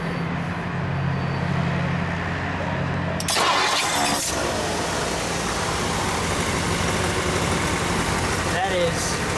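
A 1960 Ford Thunderbird engine cranks and catches with a sudden burst, then settles into a steady, smooth idle close by.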